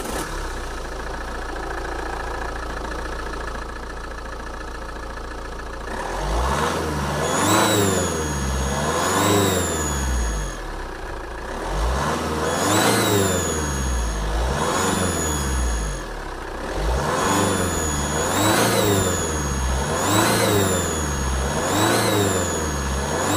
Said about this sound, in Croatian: Idemo da vam pokažem kako se čuje Insignija.